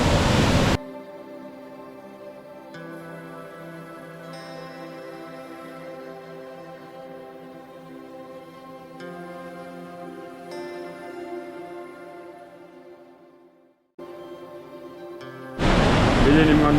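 Water from Bhagsu Nag waterfall in Himachal rushes in a steady, even roar. The sound holds continuously from start to finish, with a brief dip near the end before it swells again loudly.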